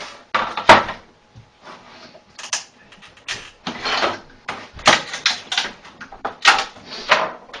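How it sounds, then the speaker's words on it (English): An X-Acto knife pries a 3D-printed bearing off a printer build tray, giving a series of irregular close clicks, scrapes and sharp plastic snaps separated by short quiet gaps. "I'm going to go ahead and remove the bearing from the build tray with my X-Acto knife here"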